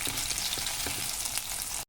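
Paneer cutlets frying in ghee in a pan give a loud, continuous close sizzle with faint scraping as they are turned over, no voices, cutting off abruptly.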